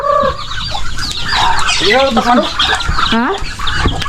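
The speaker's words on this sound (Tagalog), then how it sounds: "Look at all the chickens and ducks." Chickens cluck and squawk loudly and close by at feeding time among ducks, a busy overlapping flock chorus with rising calls, while a person speaks briefly.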